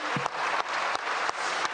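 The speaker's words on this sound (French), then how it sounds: "J'aimerais bien que les garçons de cette salle applaudissent bien aussi" A conference audience at a French business-federation summer round table applauds steadily, many hands clapping in a thick, even patter that fills the room for a couple of seconds, with a few sharper claps popping out.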